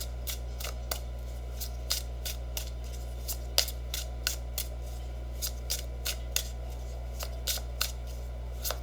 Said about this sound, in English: let's pull some final cards